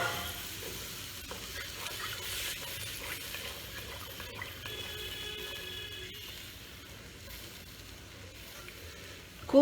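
Water is poured into a sizzling katla fish curry, making a soft, continuous bubbling and hissing that fades toward the end.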